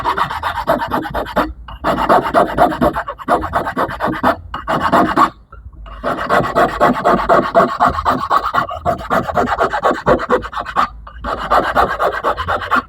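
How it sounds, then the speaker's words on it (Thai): A hand file works a piece of plastic in long, steady rasping strokes, loud and close, each scraping pass separated by short pauses, continuing without speech. "ใช้ตะไบแต่งนะครับผม"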